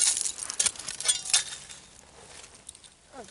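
Glass clinks and rattles as bottles and shards are dug out of an old dump at night, several sharp close clinks in the first second and a half, then quieter scattered taps.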